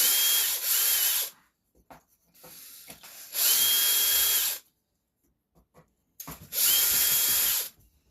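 A power drill with a 2.5 mm bit whirs in three short bursts separated by pauses, close and loud, with faint handling noises in between, while working on a Traxxas Maxx and Slash.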